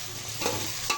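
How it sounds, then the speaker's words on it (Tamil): Tomatoes frying in a pan for brinjal chutney, a steady loud sizzle with a stirring scrape partway through, no voices. "தக்காளி நல்லா வதங்கட்டும்."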